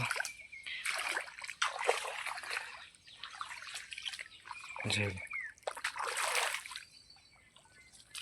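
Rainwater trickles and splashes in uneven bursts along a path, close and fairly quiet, with a short low thump midway.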